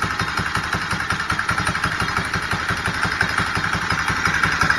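A small two-stroke engine on a motorized bicycle build runs steadily nearby, with a fast, even put-put rhythm and a slight clatter throughout.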